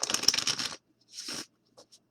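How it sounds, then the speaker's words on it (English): Shuffling a new oracle card deck of fairly stiff paper cards: a dense riffling burst up close, then a shorter second flutter and a couple of faint taps, with no talk. "the first thing I usually do is shuffle them"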